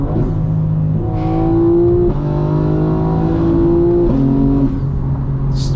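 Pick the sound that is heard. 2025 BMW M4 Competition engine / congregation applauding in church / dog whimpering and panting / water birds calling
2025 BMW M4 Competition engine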